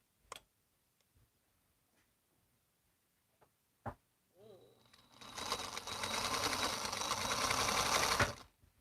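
A sewing machine stitches a quilt, starting after a few scattered clicks and taps with a brief whir, then running steadily and loudly for about three seconds before stopping abruptly.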